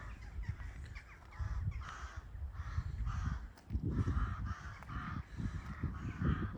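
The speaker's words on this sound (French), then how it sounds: "Bon, les corbeaux, là." Crows caw repeatedly in short harsh bursts, several calls overlapping at moderate distance, with a low rumble of background noise underneath.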